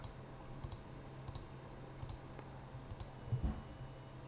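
A password is entered on a Dahua CCTV DVR during first-time setup, heard as a few faint, sparse mouse or button clicks in small pairs over a low background hum, with no talk.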